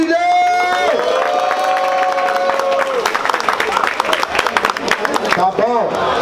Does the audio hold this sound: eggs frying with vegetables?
no